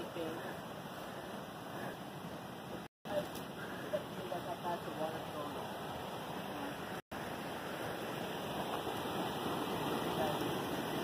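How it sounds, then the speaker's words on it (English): Loud, steady rushing water of the Walla Walla River at night roars continuously and close by, with people talking quietly beneath it. "But the water's so loud"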